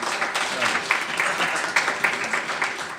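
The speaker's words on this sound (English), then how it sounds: "So if we can give Antonio a round of applause." An audience at an evening panel on public Wi-Fi policy in New York City, held at New York Law School, claps for a speaker. The applause is dense and steady throughout, with a few sharper claps standing out.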